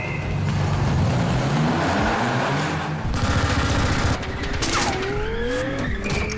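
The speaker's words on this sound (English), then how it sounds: "he's being shot at by a machine gun and shot at by these grenade launchers" A staged car crash stunt for Fast & Furious 7 erupts with rapid machine gun fire, roaring engines and squealing tires, loud and chaotic throughout.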